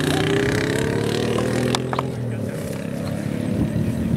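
A motor engine hums and drones steadily nearby, sliding gradually in pitch as it passes, with voices talking over it.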